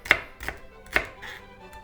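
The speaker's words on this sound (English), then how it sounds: "Then I just like to slice the celery in half and then chop it again." A knife chops celery on a cutting board in three sharp, evenly spaced strikes, with softer knocks in between. The sound is close and clear, and no one speaks.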